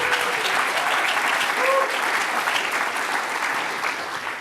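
A live panel audience applauds steadily, dense clapping at full volume for several seconds without a break.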